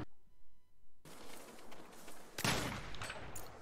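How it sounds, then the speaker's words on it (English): Automatic AK-style rifle fire in the Saints Row reboot video game: a continuous rattling fusillade of shots, growing louder and harsher in a sharp, dense burst near the end. "Looks like some kind of AK rifle"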